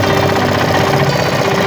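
A Yamaha 7 horsepower engine on an old walk-behind roller running close up, a loud, steady, rapid chugging hum with a constant pitch and slight knocking rattle throughout.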